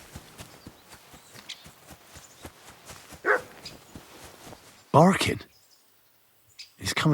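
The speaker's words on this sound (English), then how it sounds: "Barking?" A dog in Kingdom Come: Deliverance II barks in a few sharp bursts, one short yelp then a louder pair, over a quiet background of soft footstep-like taps.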